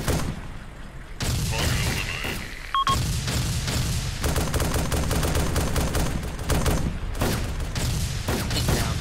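Sustained gunfire from the video game Arma 2 rattles loudly through most of the stretch, rapid automatic bursts stacked over heavy booms, close and relentless, with a brief lull in the middle.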